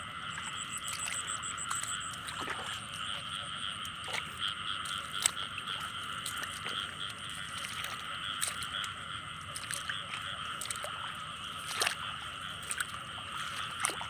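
Frogs croak at night during a frog hunt, a dense, continuous chorus of calls heard from a distance, with occasional sharp clicks and faint background noise.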